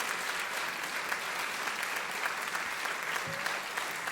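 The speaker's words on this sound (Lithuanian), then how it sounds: "Ovacijomis palydėkime ją į sceną." An awards-ceremony audience in Klaipėda applauds continuously as an honoree is welcomed to the stage, a broad, even wash of many hands clapping throughout, moderately distant and sustained without a break.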